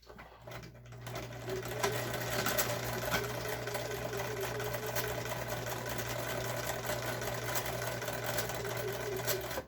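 An old Husqvarna sewing machine stitches fabric for a quillow, giving a steady, close, rapid mechanical whir that runs unbroken for several seconds.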